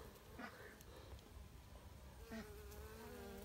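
A bee buzzes among flowering oregano and other herbs in a backyard garden bed, a faint, steady outdoor drone with brief higher whines as it moves, with no talk.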